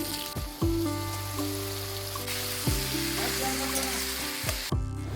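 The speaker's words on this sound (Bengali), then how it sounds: "তো এখন ফুলকপি আলুর তরকারির জন্য ফুলকপিটা ভাজতে বসিয়ে দিয়েছি।" Cauliflower frying in a pan for a cauliflower-potato curry, a loud close sizzle with stirring scrapes, alongside steady tonal humming in the background.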